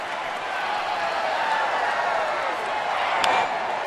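Baseball stadium crowd at Milwaukee with Houston visiting, cheering to back the home pitcher on a full count: a steady, broad wash of roaring crowd noise, fairly even throughout with a slight swell near the end.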